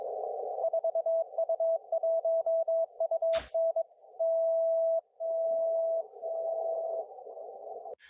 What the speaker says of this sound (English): Here's what an HF beacon sounds like.